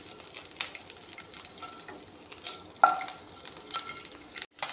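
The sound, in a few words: eggs frying in a pan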